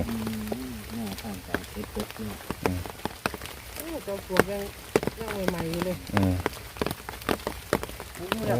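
Rain patters steadily on a surface outdoors, a dense spread of drops, while someone talks over it in Thai.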